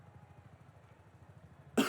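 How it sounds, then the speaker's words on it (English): A single sharp, loud cough bursts out at the very end after a quiet stretch of low, steady rumbling engine noise from a racing game in Singapore. "Man, goddamn cough."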